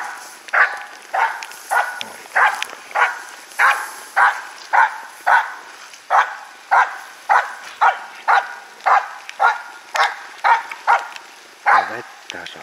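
A Finnish Spitz barks in the morning rain, a long run of close, loud, sharp barks at a steady, even rhythm, roughly two per second, over quiet background hiss.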